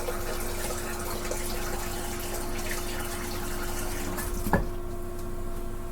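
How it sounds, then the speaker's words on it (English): Tap water runs steadily into a cooking pot for boiling pasta in a home kitchen, a constant rushing gush with one brief knock near the end and no talking. "Just getting some water."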